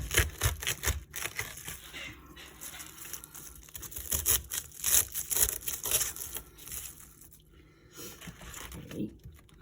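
A knife chops cabbage on a board for home-cooked boiled cabbage and carrots, giving quiet, irregular crunching and crisp cuts. They come in short clusters with brief pauses between them.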